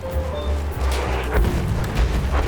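A deep, booming artillery blast in Battlefield 1 rumbles through, with the low thud lingering over a noisy, continuous game soundscape.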